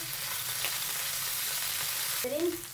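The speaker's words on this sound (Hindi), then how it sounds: "1 चम्मच कुटा हुआ जीरा है। थोड़ा सा इसे फ्राई करेंगे।" Crushed cumin sizzling in hot oil, a steady close frying hiss that runs without a break, with a short scrape of a spoon near the end.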